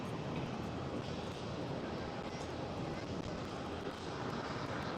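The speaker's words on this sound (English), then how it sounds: "this China Eastern 777-300 is lining up on the runway" A China Eastern Boeing 777-300 on the runway at Amsterdam Schiphol airport gives a steady, broad jet-engine roar that holds at an even level for the whole stretch, heard from some distance.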